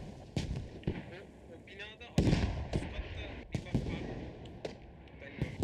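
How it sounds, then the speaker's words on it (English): Rocket and grenade blasts in a competitive squad shooter match, a series of sharp, distant-sounding explosions and pops scattered across the scene, with a commentator talking throughout. "Rockets and nades flying everywhere."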